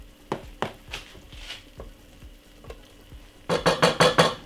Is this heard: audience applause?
no